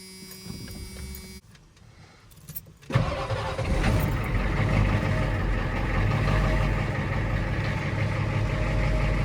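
A 1986 Ford F-250 with an IDI diesel engine sits quiet, then cranks briefly before firing up into a loud, steady, close diesel rumble that keeps running.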